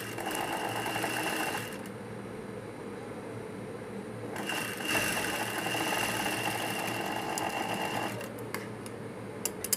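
An electric sewing machine stitching lining cloth for a blouse, running in steady bursts with brief pauses between runs, a fast, even mechanical whir close by and fairly quiet.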